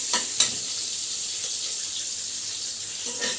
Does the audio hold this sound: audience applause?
no